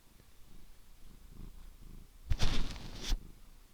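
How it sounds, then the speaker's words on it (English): A cat purrs in soft low rumbles close by, then lets out a louder, brief meowing burst before settling back. "Aw, talking kitty cat."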